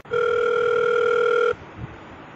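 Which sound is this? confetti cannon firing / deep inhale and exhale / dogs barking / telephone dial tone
telephone dial tone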